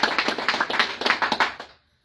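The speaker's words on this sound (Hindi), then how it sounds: "सभी के बार जोरदार तालियां सभी लोगों के लिए।" Audience at a political party gathering claps in quick rhythmic bursts, loud and close, about a dozen sharp beats before cutting to silence.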